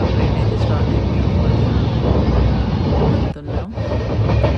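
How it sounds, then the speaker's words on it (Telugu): A moving train recorded from inside the carriage, a loud, steady rumble and rattle that runs throughout, dipping briefly near the end before resuming. "ట్రైన్ అయితే స్టార్ట్ అయిపోయింది."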